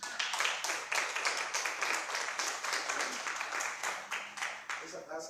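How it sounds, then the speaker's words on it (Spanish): A church congregation claps in rhythmic unison, loud and close, the steady beat of many hands filling the room with a few voices mixed in. "Denle un aplauso al Señor."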